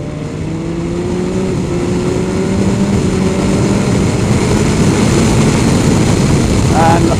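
BMW S1000XR motorcycle engine droning steadily while riding, rising slightly in pitch, with loud wind rush throughout.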